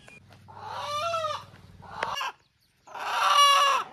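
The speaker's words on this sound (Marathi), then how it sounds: "तर आता आपण कोंबडा पकडून ठेवलेला आहे।" A rooster held in hand at a village yatra clucks and gives strained crowing calls in two close, loud bursts with a short gap between them, over a low rumbling background at the start.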